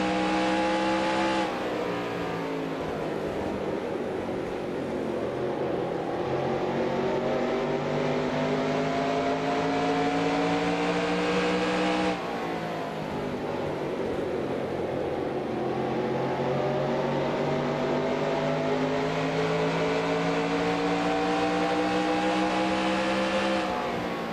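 Stock car engines roar in NASCAR Racing 2003 at Richmond, a 1994 Winston Cup race, with a loud, sustained V8 drone whose pitch climbs and falls with shifts and throttle changes, and other cars running close by.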